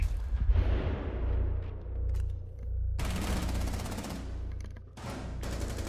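Shotgun fire in Rainbow Six Siege gameplay, a few loud close blasts with rattling bursts of gunfire between them and short breaks of quieter room noise.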